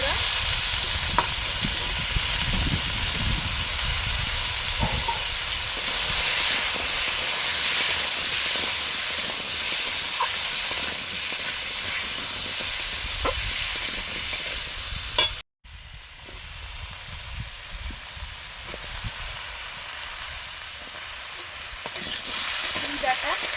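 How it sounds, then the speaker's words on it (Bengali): Mung dal frying in a pan for a pumpkin and Malabar spinach ghonto, a steady close sizzle and hiss with occasional stirring scrapes, running throughout with a brief cut near the end. "মুগ ডালটা ভেজে নিচ্ছি।"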